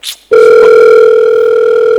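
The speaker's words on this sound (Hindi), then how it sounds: "सर आपका फोन आ रहा है।" A telephone rings with one steady electronic tone that holds loud and unbroken for almost two seconds, right after a short moment of background chatter. It sounds like it comes from a stage set at a film trailer launch event.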